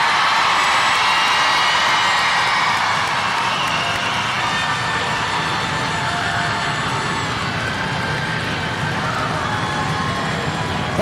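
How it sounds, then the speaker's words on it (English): Students in a school gym cheering and shouting loudly for a teacher who ran an entire fitness challenge, a dense sustained roar of many voices with scattered clapping, constant and echoing throughout. "Everyone here, the loudest cheer we can"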